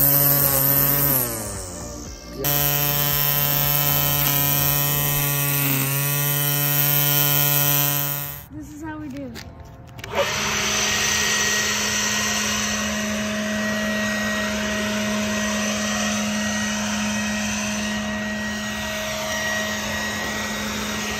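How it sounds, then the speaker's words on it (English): A Ryobi battery-powered string trimmer runs with a loud, steady electric whine that shifts in pitch and briefly drops before settling into a constant high buzz, close and alone throughout. "I'm going to try a trimmer out."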